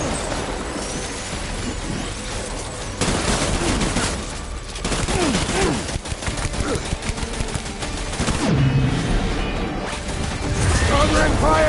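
Gunfire from a video game shootout: dense bursts of rapid automatic fire and crashing impacts, loud and nearly continuous, with voices shouting beneath the shooting.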